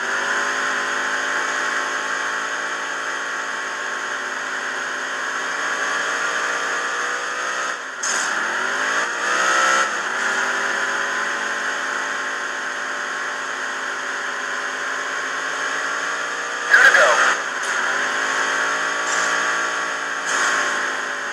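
Race cars from the video game NASCAR Dirt to Daytona: a sustained, loud engine whine that holds steady, with pitch dips and swells around shifts and passes and one brief louder burst near the end.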